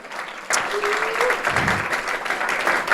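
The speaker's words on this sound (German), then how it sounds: "Kann man einen Applaus geben?" Steady applause from a church congregation starts abruptly and continues as a dense wash of clapping, fairly loud and sustained.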